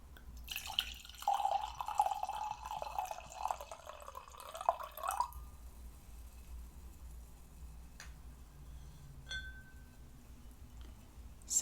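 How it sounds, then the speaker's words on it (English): Wine pours into a glass with a soft, steady liquid trickle lasting about five seconds. A few faint drips and small clinks follow in a quiet room. "And now I'm going to pour some for me."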